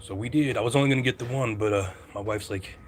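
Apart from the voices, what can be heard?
None of the usual background noises is heard.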